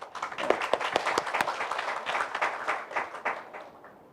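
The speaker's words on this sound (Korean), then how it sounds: "우리 박수 한번 쳐주세요." Applause from a church congregation fills the space, with several sharp individual claps standing out early before settling into a steady, moderately loud ripple that gradually thins and fades.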